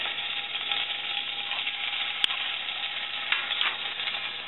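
Garlic sizzling in about two tablespoons of heated olive oil in a pot, a steady, even hiss with a couple of faint clicks, moderately close and unaccompanied by speech.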